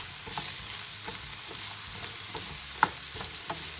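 Potatoes with turmeric fry over a slow flame in a pan, a steady close sizzle broken by occasional scraping stirs and one sharper clink of utensil against pan.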